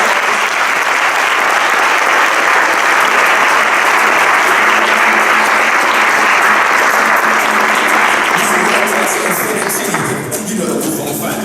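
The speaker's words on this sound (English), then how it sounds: "Let's give them a round of applause for all of our guests." Loud, sustained applause from a large crowd at a LegalShield business event in Houston honoring guests, dense clapping close and continuous, easing slightly near the end.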